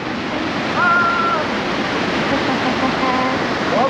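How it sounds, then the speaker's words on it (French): Warm waterfall in a Guadeloupe landscape, a steady broadband rush of falling water filling the clip, with faint tonal calls or whistles briefly riding over the constant roar. "une cascade chaude"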